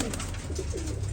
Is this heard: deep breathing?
no